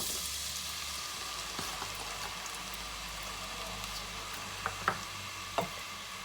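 Onions frying in oil in a cooking pot for aloo gobi, a soft continuous sizzle with a few light taps near the end, fairly quiet and steady, no talking.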